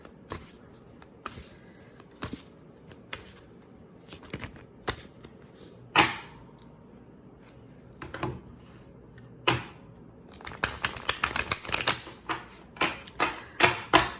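Crisp riffling bursts of cards being shuffled, close and dry, coming in irregular clusters with quiet gaps, quickening into rapid flurries toward the end.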